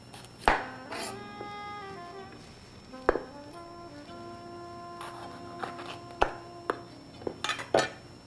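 A knife slicing through red, yellow and orange bell peppers on a board, with sharp, separate chopping strikes spaced a few seconds apart and a low hum underneath.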